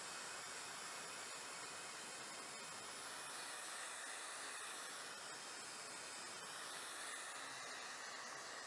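A sanding disc runs across a rusty car door repair, smoothing down a high corner with a steady, even hiss of abrasive against metal that holds constant throughout, close and fairly quiet.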